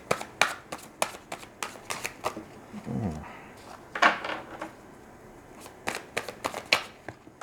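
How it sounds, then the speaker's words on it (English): Tarot cards being shuffled and drawn from a deck, a close series of crisp papery flicks and snaps in quick bursts, with a short pause and a low murmur midway before the brisk card handling resumes. "I'm going to draw you 3 cards from the universe"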